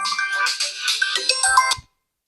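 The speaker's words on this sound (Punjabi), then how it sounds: "ਤੇਰਾ ਫੋਨ ਆਉਂਦਿਆ ਲੱਗਦਾ" A mobile phone ringtone plays a bright melodic tune for under two seconds for an incoming call, loud and close, then stops abruptly.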